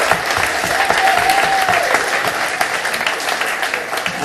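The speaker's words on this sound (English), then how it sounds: "big applause for you" An audience at a talk gives loud, sustained applause, a thick continuous wash of many hands clapping that stays strong from start to finish.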